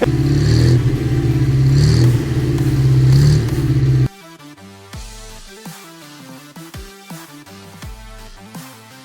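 A Datsun 140J Violet engine, fired up for the first time in 20 years, runs loud and steady with a rough, rumbling tone for about four seconds before giving way to music.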